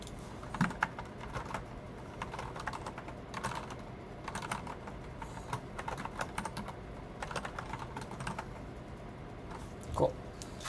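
Steady typing on a computer keyboard while running a Django keyboard test, with a continuous patter of key clicks and a sharper louder strike near the end, no talking.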